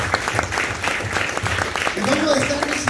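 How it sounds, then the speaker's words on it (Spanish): A church congregation applauds during a worship service, with a sustained wash of clapping, shouts and a voice rising over it near the end. "Vamos a darle un fuerte aplauso al Señor."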